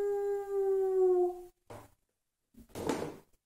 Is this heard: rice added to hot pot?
no